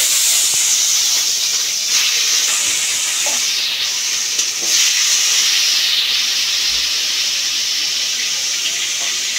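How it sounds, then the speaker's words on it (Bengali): Spiced, food-coloured meat for biryani sizzles in hot oil, a steady close hiss that holds evenly for several seconds with no talking. "মাংসটাকে আমি ভেজে নেবো তেলের মধ্যে দিয়ে"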